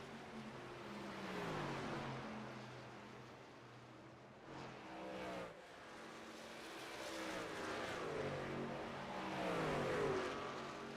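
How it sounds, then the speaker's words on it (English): Race truck engines roaring around the Homestead-Miami Speedway in a Premier Trucks race, heard from inside Judson Curtis's cab: a loud, steady engine drone that rises and falls in pitch as the trucks accelerate and lift, with no talking. "step inside the cab of Judson Curtis's truck and let you hear some of the race sounds of the track"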